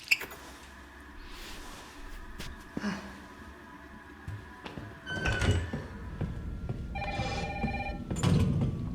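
A telephone rings in Jill's apartment in the Resident Evil 3 Remake, with repeated ring bursts alongside door and ambient game sounds, fairly close and mixed with other effects.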